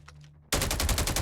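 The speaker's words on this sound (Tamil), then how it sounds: "மேலே கொஞ்சம் அடிச்சுக்கிற சவுண்டு கேட்குது, புல்லட் சவுண்டு." Rapid automatic gunfire bursts out in a Call of Duty battle royale match after a quiet moment, a loud sustained string of close shots in an even rhythm.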